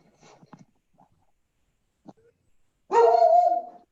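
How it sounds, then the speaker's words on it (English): A single dog bark rings out clearly indoors after a stretch of near silence, loud and close, with a few faint thumps and rustles before it. "dog barking."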